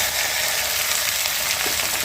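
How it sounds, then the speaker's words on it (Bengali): Chopped okra fries in a pan, giving a steady, close, broadband sizzle that holds evenly for the whole stretch with no voices over it. "ভেন্ডিটা কুচিয়ে নিয়েছি,"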